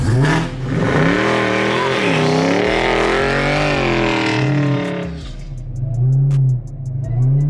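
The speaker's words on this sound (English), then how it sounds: "So I'm shifting my gears early to try to catch a little bit of traction." Dodge Hellcat Widebody accelerating hard on snow, its engine roaring loud and close with rising revs broken by early gear shifts, then settling to a lower growl.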